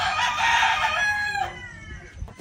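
A rooster crows loudly and close on a Philippine farm, one long drawn-out crow that fades out, followed by brief faint clucking from chickens.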